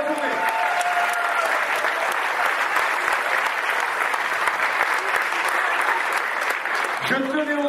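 A large crowd applauds the 32 teams at a youth football Champions League-style tournament awards ceremony, with dense, steady clapping for about seven seconds that tapers off near the end while a voice begins speaking.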